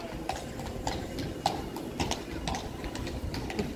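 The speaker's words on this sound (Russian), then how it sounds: "Слушай, разные лошадки были, белые, были далматинцы, и были, и вот темные поехали." Horse-drawn carriages pass through central Krakow, hooves striking the street in a steady, brisk clip-clop rhythm, moderately close with faint city noise behind.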